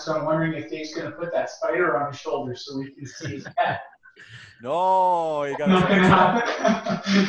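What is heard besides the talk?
No distinct noise like a dog, phone or traffic.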